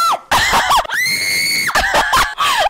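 A person screams loudly during a tense round of the Roblox horror game Mimic, a sustained high shriek between bursts of excited shouting.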